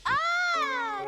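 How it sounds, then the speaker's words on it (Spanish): A single cat meow, clear and close, rising and then sliding down in pitch over about a second. "¡Gato!"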